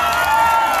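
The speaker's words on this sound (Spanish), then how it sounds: "Fuerte el aplauso para Pachi" A crowd at a Día de la Mujer show in Miraflores, Chaco, cheers and applauds in one loud, sustained roar of voices and clapping, heard briefly.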